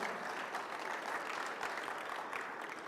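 Steady applause from a conference audience at the MEDEF Talents Sharing 2015 event, a dense wash of clapping hands that holds at an even level throughout.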